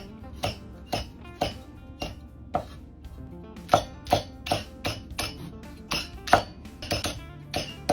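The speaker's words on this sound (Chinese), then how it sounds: "再把小米辣斜刀切成片" Small chili peppers sliced on the bias with a knife on a cutting board, giving a run of sharp, regular knocks close by, a little over one chop per second.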